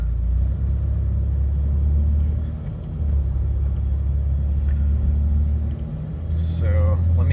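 A 1997 Lexus LX450 rolls along a road in drive, its low engine and road rumble steady and continuous from inside the cabin, dipping briefly mid-way before resuming.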